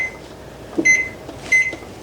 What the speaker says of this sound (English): Set the timer.